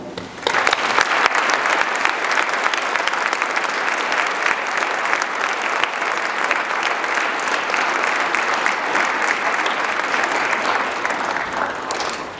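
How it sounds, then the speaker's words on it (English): An audience at a school speech day breaks into sustained applause, a dense, even roar of many hands clapping that starts abruptly and holds steady for over ten seconds before tapering. "To my clubs, big round of applause"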